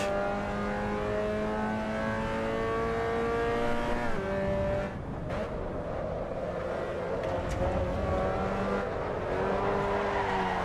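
A race car in Assetto Corsa EVO loses its rear end, a steady loud engine drone with shifting harmonic pitch giving way around midway to a rougher, scrabbling tire-and-engine wash, with no talk.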